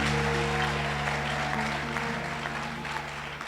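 Church congregation applauding during a New Year's Eve service, steady dense clapping throughout with a sustained musical tone underneath, fading slightly toward the end.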